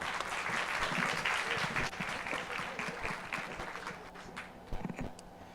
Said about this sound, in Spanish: Recibamos a Nico Nogués con un aplauso.